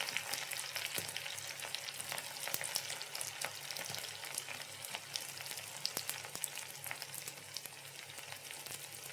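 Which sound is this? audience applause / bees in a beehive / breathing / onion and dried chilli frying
onion and dried chilli frying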